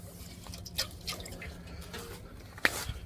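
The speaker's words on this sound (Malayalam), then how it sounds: "ഇവന്മാർക്ക് ഇച്ചിരി വെള്ളം കൊടുക്കുന്നതാണ് നമ്മുടെ പരിപാടി." Water drips and trickles softly while being given to buffaloes on a Kerala farm, with a few scattered splashes and a sharper drop near the end over quiet background hiss.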